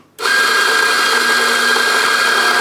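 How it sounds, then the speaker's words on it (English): A Mazzer Mini coffee-shop grinder starts abruptly and grinds espresso beans with a loud, steady, high-pitched mechanical whir that runs unbroken to the end. "Now, this is the Mazer Mini grinder. It's for a coffee shop."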